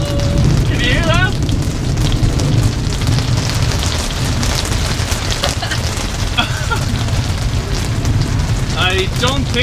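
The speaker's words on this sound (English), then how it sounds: "This thunder and lightning is getting even closer, I think." Thunder rumbles low and heavy through a rainstorm at Angkor Wat in Siem Reap, Cambodia, steady rain underneath and bird chirps breaking through at the start and end.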